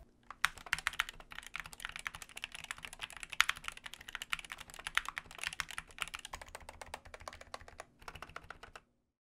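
Rapid typing on a budget mechanical keyboard with PBT keycaps and well-tuned stabilizers, a dense, close run of clacky keystrokes with uneven rhythm that stops abruptly near the end.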